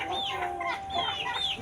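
Laying hens on a farm cluck in short, rising calls, several overlapping bursts close by over a quiet background.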